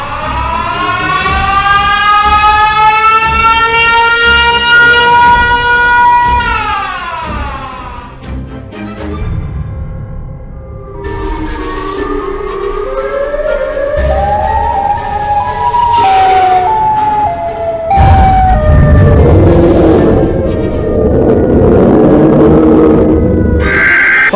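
A loud wailing siren, the cry of the Siren Head creature, rises and falls in long sweeping tones, then breaks into shifting, warbling pitches over a rumbling low background.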